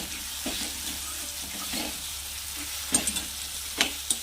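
Raw spice paste is stirred into browned onions in a hot pan, making a soft sizzle with scraping strokes of a spoon and a few sharp clinks of metal toward the end, with no voices.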